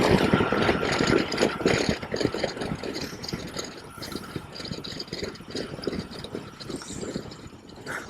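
A car engine running with a steady, rattling mid-low rumble, close and continuous, with no talk over it.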